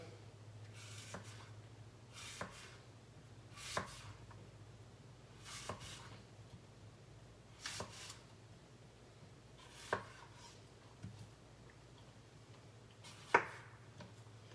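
An apple is chopped with a sharp knife on a board, about eight separate faint thuds spaced a second or two apart over a low steady hum, no talking.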